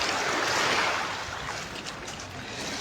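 Waves at high tide on the sea at Oslob wash in a broad hissing surge that swells and then eases, with steady wind-like roar and no voices.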